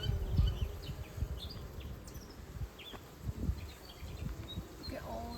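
Honeybees hum steadily around an open hive during an inspection, a dense low drone with bursts of louder buzzing as bees fly close past, while people talk quietly nearby.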